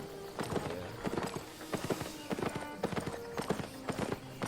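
Donkey mount hooves clip-clop at a steady trot in the fantasy MMO Albion Online, a rhythmic run of close, even hoofbeats with a faint whinny and no talk over them.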